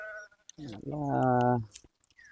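A single sheep bleats once, a wavering, nasal call lasting about a second, close by, with brief muffled sounds before and after.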